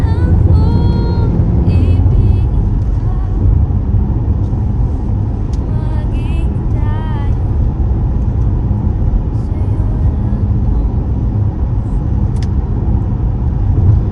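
A car drives along a road with steady, loud engine and tire rumble throughout, people talking quietly inside over the continuous road noise.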